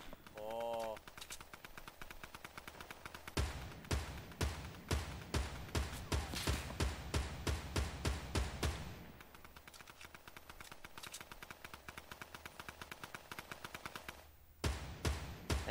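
Rapid automatic gunfire from the Fortnite video game rattles in repeated bursts, a long stream broken by short pauses and then resuming, fairly quiet overall.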